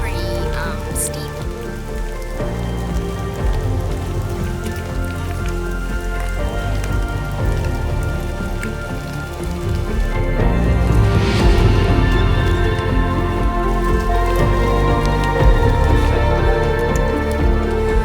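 Heavy rain pours steadily on Mount Kilimanjaro, a dense constant hiss of drops hitting surfaces that swells louder in the second half, with no pauses.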